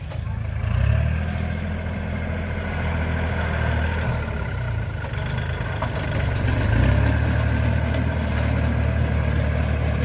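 An L40 tractor with a rotary tiller working soil to prepare a grass plot, a loud steady low engine drone with rumbling load changes throughout, close and continuous.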